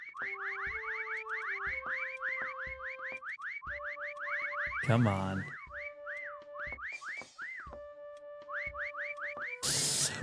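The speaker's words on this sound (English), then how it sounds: "I'm whistle spamming as much as possible. Come on, come towards the whistle noises." Repeated whistle noises spammed in a hide-and-seek infection-mode video game, a rapid series of bright rising and falling whistle calls with a couple of louder bursts, while someone briefly speaks.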